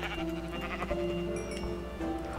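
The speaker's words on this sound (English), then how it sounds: "Oh, there's something here. Sheep. Hello, sheep." Sheep bleating in Minecraft, a couple of wavering bleats over steady game background noise, fairly close and clear.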